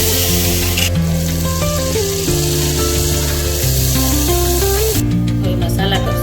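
Chopped vegetables hit hot tempering oil seasoned with mustard seeds, cumin, asafoetida and turmeric, giving a steady close sizzle for several seconds beneath continuous background music.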